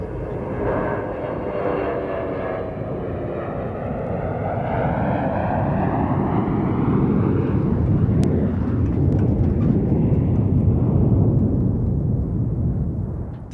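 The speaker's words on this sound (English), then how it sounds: "a spirited takeoff by a KC-135R starts the show" Boeing KC-135R jet tanker making a spirited takeoff at the Mildenhall Air Fete air show: a loud, continuous jet roar that swells and shifts pitch as the aircraft accelerates and climbs away.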